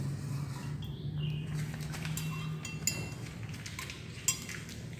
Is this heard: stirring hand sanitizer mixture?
yes